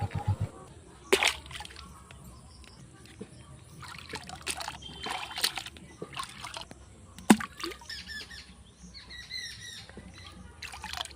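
Mangoes being washed in water at a pond ghat, with soft sloshing, trickling and a few sharper splashes spread across the stretch, fairly quiet with faint background noise and no talk.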